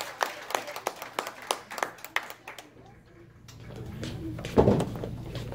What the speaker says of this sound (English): So please give her a nice round of applause.